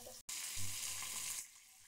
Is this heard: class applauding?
no